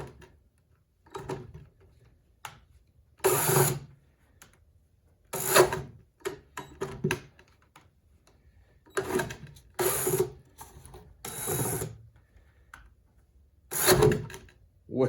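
A Porter Cable 20V cordless right angle drill bores into a 2x4 in short, loud bursts separated by quiet pauses, with the motor revving briefly and stopping several times.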